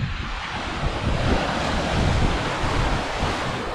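Waves wash steadily against the rocky cliff shore at Peninsula State Park as a loud, continuous roar of surf, with wind buffeting the microphone.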